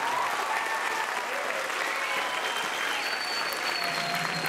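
An audience claps in sustained, full applause filling the gym at a high school cheer competition awards ceremony, with faint voices and a few whistles or cheers rising through the steady clapping.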